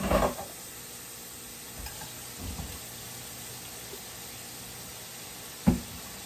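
A lamb burger patty sits in a hot skillet, giving off a faint, even sizzle with a few soft clatters and one sharp knock near the end.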